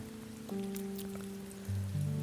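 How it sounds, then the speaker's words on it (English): Steady city rain hisses in an even wash, continuing unbroken beneath sustained droning musical tones that shift pitch a couple of times. "The rain continued, the city remained silent"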